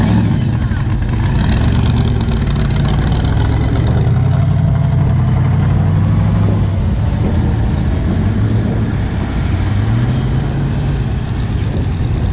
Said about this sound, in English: Look at this little Volkswagen coming up. Twin turboed.